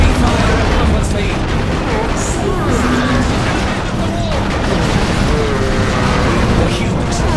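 Heavy gunfire and explosions in the Dawn of War II Retribution strategy game form a dense, loud, unbroken wall of battle noise with continuous booms and rattling shots.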